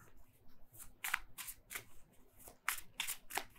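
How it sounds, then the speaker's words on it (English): Quick riffles and soft slaps of tarot cards being shuffled, several short bursts in an uneven rhythm, close and fairly quiet. "Last shuffle."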